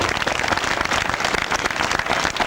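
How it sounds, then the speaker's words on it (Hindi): Dense, steady applause from an audience at a Shatchandi Mahayagya religious discourse gathering, welcoming a woman preacher to the stage; loud, continuous clapping with no gaps for the whole stretch. "आप सभी तालियों से उनका स्वागत करें"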